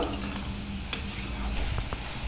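Spinach leaves go into a hot pan for a spinach, egg and garlic dish, sizzling softly under stirring with a few light scrapes and clinks of a utensil against the pan.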